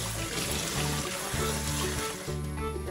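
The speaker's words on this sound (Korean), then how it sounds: "흐르는 물에 깨끗하게 한 번 씻어주세요." Running tap water splashes steadily into a sink while leafy greens are rinsed, a continuous close watery wash with no talking.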